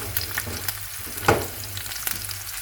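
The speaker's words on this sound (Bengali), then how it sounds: "চিংড়ি মাছগুলো একটু ভেজে তারপরে হলুদ আর লবণ দিয়ে রান্না করবো" Shrimp frying in a pan before being cooked with turmeric and salt, a crackling sizzle with a sharper burst of spatter near the middle and scattered pops, close and without speech.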